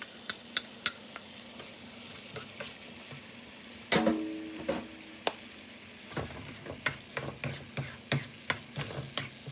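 A steak sauce of flour and wine sizzles in a hot pan, a sharp hiss flaring up as the mixture goes in, followed by steady frying and repeated clicks and scrapes of stirring.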